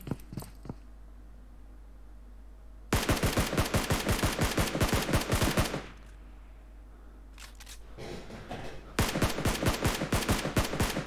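Two long bursts of rapid automatic gunfire rattle loudly in PUBG Mobile, each lasting about three seconds, with a few scattered single shots between and before them and no voices.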